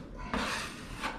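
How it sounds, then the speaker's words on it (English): A metal knife blade scrapes drywall mud across a patched wall in a couple of short rasping strokes, close and fairly quiet. "Essentially what I'm doing is sanding with my knife."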